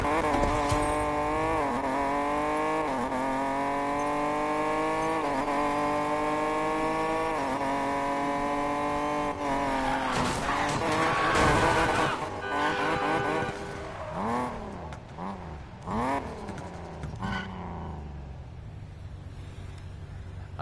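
A fast race car in Need for Speed Payback, engine holding a loud high whine, then shifting and revving hard with tire squeal and skidding before dropping off toward the end.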